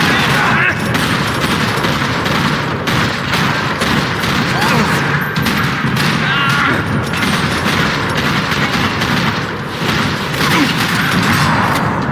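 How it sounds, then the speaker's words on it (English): Gunfire in the Max Payne 3 shootout crackles through a parking lot in dense, overlapping bursts. The shots are loud and continuous, with booms and clatter mixed in, and voices shout faintly beneath the din. "Another parking lot rattling with gunfire."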